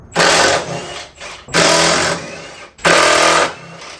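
Three loud bursts of a power tool, each about a second long, loosening motor mount bolts on a Saab 9-3, close up with brief pauses between them.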